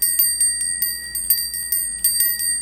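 Small bells ring in a steady, repeated pattern, each strike bright and sustained with shimmering overtones, heard alone and close.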